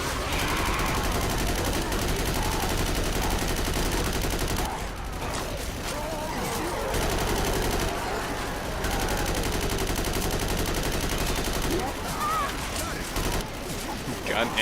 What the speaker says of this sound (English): the repeated sound of the M16 has made it hard for me to hear my own thoughts